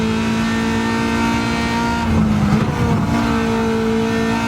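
A Garage 56 NASCAR Camaro ZL1 in a Le Mans racing video game roars at full throttle, a loud sustained engine drone that shifts pitch briefly midway before holding steady.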